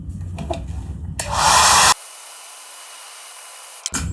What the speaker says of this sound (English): how long it takes to heat it up using your hairdryer